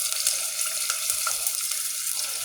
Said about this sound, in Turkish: Burada doğramış olduğum biber, sarımsak, soğan bunları güzelce bir kavuracağım arkadaşlar.